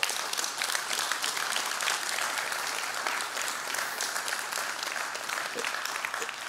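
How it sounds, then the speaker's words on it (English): Church audience applauding after a talk, a sustained wash of many hands clapping at close to moderate range, steady throughout with a few voices mixed in. "It always seems a little weird when people clap"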